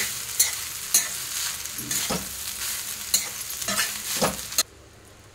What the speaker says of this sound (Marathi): आता आपल्याला याच्यामध्ये हा भात ओतायचा आहे। चांगला हलवून घ्यायचा आहे।